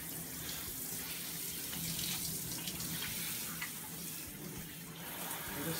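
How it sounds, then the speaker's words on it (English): Lukewarm water runs steadily over a dog being soaked before a flea and tick shampoo, a continuous close splashing and trickling with no talk. "I'm wetting Akira with warm, lukewarm water, soaking her body real good before I apply the shampoo."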